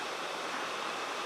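A waterfall among redwood trees on the Olympic Peninsula gives a faint, steady hiss of rushing water, even and unbroken, with no voices.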